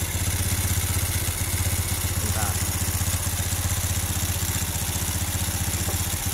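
A Honda Revo motorcycle engine idles steadily and rhythmically during carburetor adjustment, a loud, even close-up putter with slight mechanical clatter throughout.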